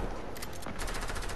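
Rapid bursts of automatic gunfire fire at the player in a video game, faint and slightly distant, with a quick crackling rhythm.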